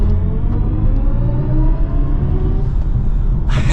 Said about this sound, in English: And we'll give it another acceleration.